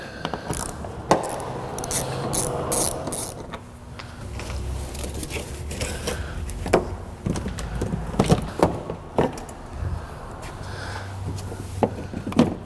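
A ratchet loosens 10 mm fasteners on a 2007-2013 Mini Cooper S (R56) during battery replacement, giving scattered bursts of close metallic clicking with short pauses and a few knocks between them.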